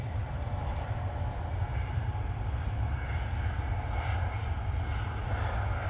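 A Ryanair jet airliner departs from runway 05 left with a deep, steady, distant engine roar that holds throughout, no voices.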